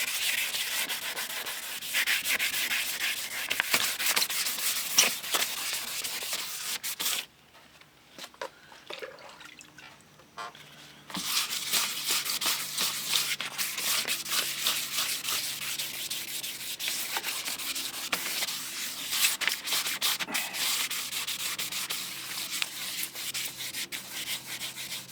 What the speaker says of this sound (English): A little less tiresome with the buffing wheel.